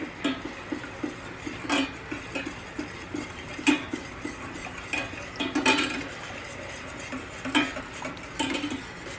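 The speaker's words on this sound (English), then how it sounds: "So now I'm gonna just start to try to mix this together." A utensil stirs honey, butter and hot sauce together in a pan, with repeated soft scrapes and light metallic clinks in an uneven rhythm against a quiet kitchen background.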